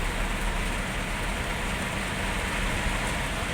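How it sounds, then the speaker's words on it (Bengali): Heavy rain pours down in a steady, dense roar with no letup, loud and close, with no voices. "একেতে এরকম মশালধারে বৃষ্টি,"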